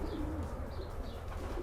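A male Arian Dijkstra racing pigeon coos in a series of low, soft, rounded calls, repeated steadily over a constant loft background hum.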